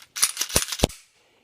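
Shots from a Ruger EC9s 9mm pistol with a 7-round magazine, firing Federal Premium HST 9mm ammunition: a quick series of three or four sharp cracks, loud and close, each with a short fading tail.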